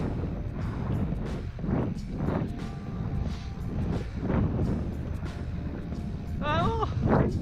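Wind buffets a microphone during street riding on a bike, a continuous low rumbling roar with gusty swells; a voice talks briefly over it and a short squeaky whistle-like sound rises near the end.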